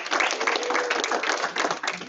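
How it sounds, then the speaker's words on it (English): An audience at a Rotary Club of Peoria-North meeting claps in a brief, dense burst of applause that holds steady for a couple of seconds, alone. "Give yourselves a round of applause."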